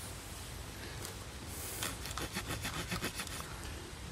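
The serrated edge of an Ozark Trail knife saws back and forth in a steady rasping rhythm, faint and close, with the strokes growing clearer partway through.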